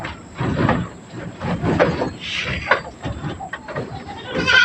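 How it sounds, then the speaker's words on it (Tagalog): Goats and young kids bleat repeatedly inside a goat house in the late afternoon, overlapping calls of varied pitch rising and falling close by, with a few louder cries toward the end. "Ito ang sitwasyon ng ating goat house paghapon."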